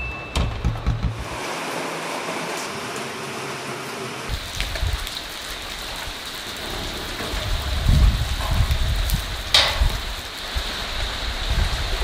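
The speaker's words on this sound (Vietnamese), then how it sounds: "Ôi trời, mưa" Heavy storm rain pours down outdoors in a dense, steady hiss that swells in bursts, loud and close throughout, with a brief drop at the start and no talking.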